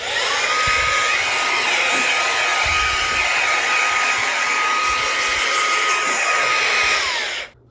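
A Fanttik B8 ACE brushless mini blower blasts dirt out, a loud, steady high-pitched whoosh with a whining motor tone that runs unbroken before cutting off at the end.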